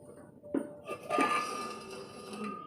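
A lid set onto a clay pot of fish curry, giving a couple of quick clinks and a ceramic clatter followed by a faint lingering ring, close and moderately quiet.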